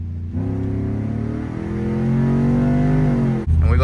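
An E85-tuned Chevy Tahoe with a cold air intake accelerates on a test drive, its engine droning loud and close with a climbing pitch, then a brief gap and a fresh surge near the end.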